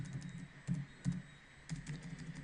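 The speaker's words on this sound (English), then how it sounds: "as I start typing in this field" Keys clatter on a computer keyboard while text is entered into a field in graphics software, with soft, close keystrokes falling in quick uneven bursts at a quiet level and no voices.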